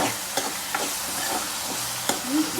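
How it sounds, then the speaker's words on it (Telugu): Spices and tomato stirred in hot oil for upma, with mustard seeds and cumin, giving a steady soft sizzle broken by a few scraping stirs of the spoon, close and moderately quiet. "సో ఆయిల్లో వేసుకొని చక్కగా ఇక్కడ నుంచొని తిప్పుతూ ఉండాలన్నమాట"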